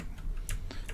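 Quick keystrokes on a computer keyboard, a handful of crisp clicks in a brief burst while typing a git clone command.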